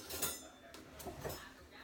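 Cutlery clinks softly in a home kitchen while a spoon is fetched during hummus making, several faint metallic taps and rattles close by.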